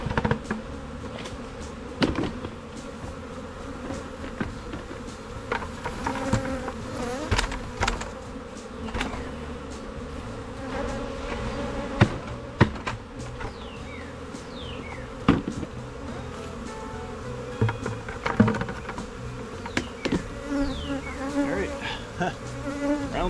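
A swarm of honey bees being moved into a box, a dense continuous buzzing hum close by, with occasional knocks and thumps over it.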